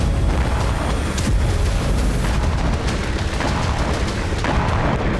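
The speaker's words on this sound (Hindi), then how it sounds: "बारूद के भंडार में धमाके से जबरदस्त आग निकली" Explosions and fire at an ammunition depot struck by a drone, a dense continuous rumble and crackle with repeated loud bursts, roaring steadily throughout.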